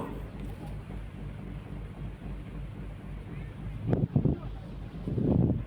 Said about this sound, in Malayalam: വളപട്ടണം പറശ്ശിനിക്കാട് ബോട്ട് യാത്ര